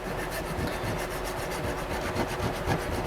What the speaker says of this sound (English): I'm going to take a screwdriver, pull back on the spring, take a points file